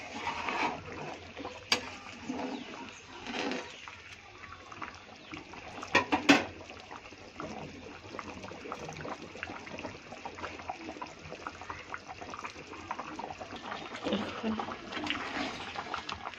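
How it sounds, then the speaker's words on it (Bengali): An egg simmers in a pot of boiling curry, giving a steady, close bubbling and gentle liquid churn throughout, with a few louder pops and splutters along the way. "ডিমটা দিয়ে এখন একটুখানি ফুটিয়ে নেব।"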